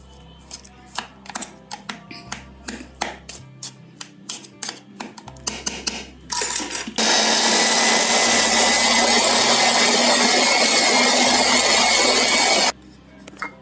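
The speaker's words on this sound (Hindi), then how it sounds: "मैंने इसको चॉपर में चॉप किया तो ये ऐसा पनीर बन गया है" Homemade paneer being chopped in an electric chopper for mozzarella: a run of sharp knocks and rattles, then a loud steady motor whir for several seconds before it cuts off, close.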